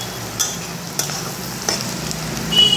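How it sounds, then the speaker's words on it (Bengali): Onion, capsicum, chopped garlic, green chili and chopped ginger stir-frying in a pan for dry chili chicken, a close, steady sizzle with a few sharp spatula taps and scrapes and no voices. "পেঁয়াজ, ক্যাপসিকাম, রসুন কুচি, কাঁচা লঙ্কা, আদা কুচি দিয়ে এটা একটু ভেজে নিচ্ছি।"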